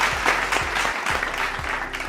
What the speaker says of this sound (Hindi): एक जोरदार ताली आप सब लोग अपने लिए बजा सकते हैं